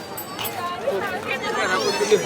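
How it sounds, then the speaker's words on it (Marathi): A large outdoor crowd at the Tukaram Maharaj palkhi procession fills the air with steady, overlapping chatter and many voices close by, with no single sound standing out. "जिकडं बघा तिकडं गर्दी आहे ना."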